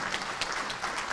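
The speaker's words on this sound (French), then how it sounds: "Je voudrais que le public qui est présent applaudisse toute l'équipe technique" An audience at a legislative election debate claps in a dense, steady burst of applause for the technical team, close and fairly loud.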